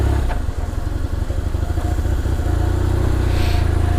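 A motorcycle engine runs up close as the bike is ridden in and parked, a throbbing mid-pitched chug that settles into a steadier idle toward the end.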